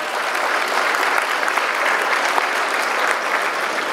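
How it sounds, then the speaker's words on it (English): Sustained applause from an audience at a funeral service awards breakfast, honoring medallion recipients; dense, steady clapping throughout with no pauses and no voices. "Let's give them a big round of applause"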